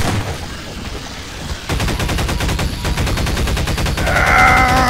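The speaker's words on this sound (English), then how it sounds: "Shotgun." Rapid repeated gunfire from Half-Life 2, a fast train of sharp shots after a brief quieter lead-in, loud and close, with a whining tone near the end.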